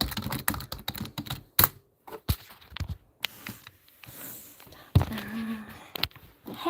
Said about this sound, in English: I better log into my computer before I put the keyboard away